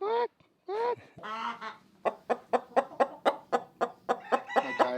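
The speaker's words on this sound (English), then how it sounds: "This is my rooster." A farm rooster clucks in a steady, rhythmic series of short, close calls. A person's voice is heard briefly before the clucking begins.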